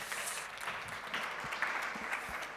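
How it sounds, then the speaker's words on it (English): A crowd at a UNWTO awards forum applauding, steady clapping from many hands at a moderate distance, fairly soft and continuous throughout. "A round of applause"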